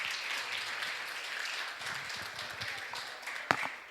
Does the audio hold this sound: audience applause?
yes